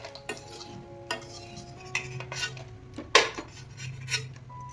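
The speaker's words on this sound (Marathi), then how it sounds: "आपण आता तेल टाकून घेऊया बघा याच्यामध्ये आणि तळायचे आहेत ते सगळे मसाले तळून घ्या।" Whole spices frying in hot oil while a spoon stirs and scrapes the pan for a Kolhapuri red chilli masala, giving a low sizzle under repeated sharp metallic clinks and scrapes, close and fairly quiet.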